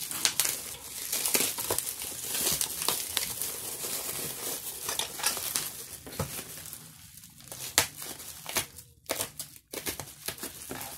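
Packaging is unboxed up close, with continuous crinkling and crumpling of plastic wrapping plus scattered sharper rustles and tears. The sound is fairly quiet, with no talking over it.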